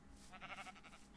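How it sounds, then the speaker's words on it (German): A sheep in the video game Minecraft gives a short wavering bleat, faint and brief against a soft background hum. "Aber guck mal, hier sind schöne Schafe."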